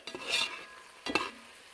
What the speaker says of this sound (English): Five tablespoons of flour. Mix that in.